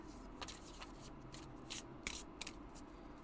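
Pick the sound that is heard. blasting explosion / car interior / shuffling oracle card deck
shuffling oracle card deck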